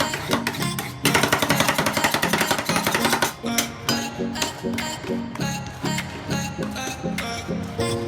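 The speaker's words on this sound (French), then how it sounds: "c'est de hacher des ingrédients sur une base de lait" Metal spatulas chopping ingredients into a milk base on a frozen plate for rolled ice cream, a fast loud rhythmic clatter of repeated taps that slows into steadier strokes, close and continuous.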